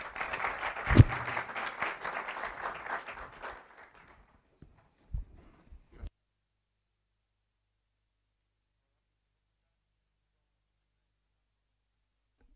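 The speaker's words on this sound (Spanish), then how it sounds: "le damos un gran aplauso" Audience applause at a recycling debate event in Chile, a dense burst of clapping for about four seconds that swells early then fades out, followed by a few isolated claps and near silence.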